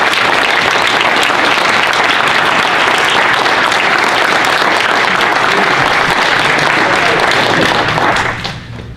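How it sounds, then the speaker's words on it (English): Students at a high school civics competition clap for themselves in a loud, dense burst of applause that holds steady for about eight seconds, then quickly fades out. "Let's give yourselves a round of applause."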